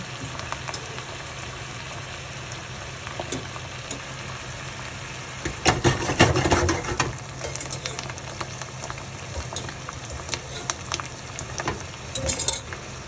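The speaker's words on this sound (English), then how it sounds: "We're going to add it to the pan with the sauce." Cooked tortellini tipped into a hot pan of sauce, a steady sizzle and frying hiss that swells into a louder stirring, bubbling burst midway, then settles back with occasional clinks.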